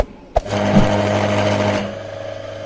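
An AC motor or compressor wired directly without a capacitor: a click, then a steady buzzing hum for over a second that cuts off, leaving a faint lower drone.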